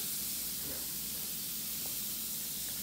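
An LOL Pearl Surprise toy fizzes in water with a close, steady hiss of bubbling that holds evenly throughout, and no voices are heard over it.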